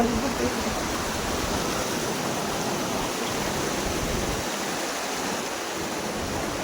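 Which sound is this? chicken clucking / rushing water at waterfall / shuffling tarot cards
rushing water at waterfall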